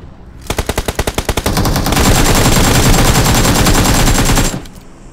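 Automatic gunfire in the mobile game BGMI bursts out loud and close, starting with distinct rapid shots that merge into a dense, continuous roar of fire for several seconds before stopping abruptly.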